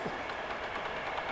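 A steady rumbling roar of a train rolling along the railway, fairly distant, heard from a canal lock, with no voices.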